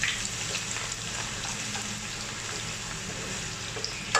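Coconut oil and ghee frying in a pan for a chicken biryani garnish, giving a continuous close-up sizzle and crackle with small spitting pops and no talk.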